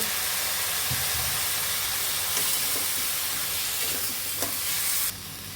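Masala and fish being sautéed and stirred in a pan for a thin fish curry with ridge gourd, giving a steady close sizzle with a few soft spoon scrapes, ending in a brighter hiss as the sizzling changes near the end.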